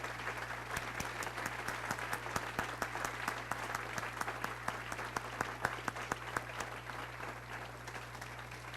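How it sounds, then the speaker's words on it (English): An audience at an alumni awards banquet claps steadily for several seconds, a dense, even round of applause heard from within the room, fairly soft overall with no speech over it. "let's give each of the recipients one more round of applause"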